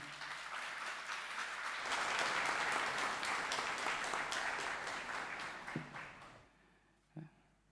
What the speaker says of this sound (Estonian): Teeks nüüd ühe aplausi